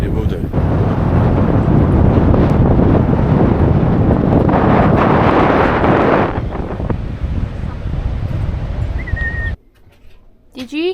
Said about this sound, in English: It's just blowing a gale down here